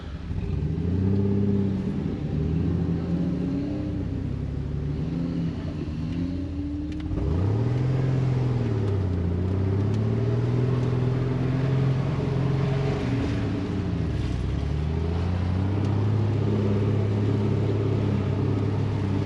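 A Jeep engine idling rough with one cylinder down, a steady loud gurgling burble with low pitch wavering up and down as the throttle shifts, continuous throughout with no talk.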